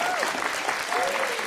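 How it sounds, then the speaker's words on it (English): Audience applause with cheering at a school district Students of the Month event, a steady wash of clapping throughout with some voices mixed in. "I want to give her an extra cheer."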